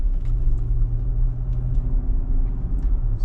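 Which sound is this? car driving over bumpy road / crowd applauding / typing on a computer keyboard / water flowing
car driving over bumpy road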